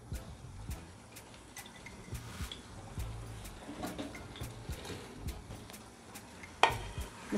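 Fried chicken goes into Manchurian gravy in a pan over a medium flame, bringing a low steady sizzle and stirring scrape, with a sharp clatter of utensils against the pan near the end.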